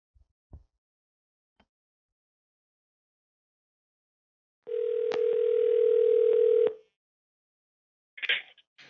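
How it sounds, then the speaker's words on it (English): A telephone dial tone sounds while a radio-style comedy show calls a guest. One steady tone lasts about two seconds mid-clip and cuts off cleanly. Before and after it, the line is nearly silent apart from faint clicks. "once we dial him up here and get him on the phone"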